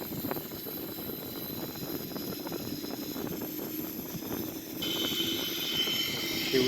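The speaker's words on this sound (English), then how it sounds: "Now we're gonna start the right wing engine." Boeing 777-300ER jet engine spooling up in a flight simulator game, a steady broadband roar with a continuous whine that grows slightly louder and brighter partway through, with no talking.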